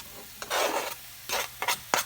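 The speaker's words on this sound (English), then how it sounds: "And you hear that sizzle." Bursts of sizzling and scraping as mushrooms, bell pepper and onion are stirred in a hot frying pan, several short strokes with brief pauses between.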